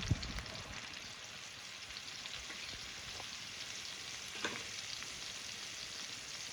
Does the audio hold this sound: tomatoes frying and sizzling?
yes